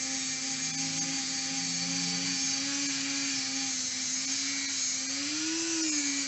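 Flap wheel on a power tool whirring steadily against a 40-plus-year-old motorcycle cylinder head, a close continuous grinding drone with slight pitch wavers, no voices.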